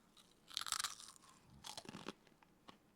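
A fortune cookie is bitten and crunched close to the microphone, giving a few sharp, brittle cracks followed by softer chewing crunches.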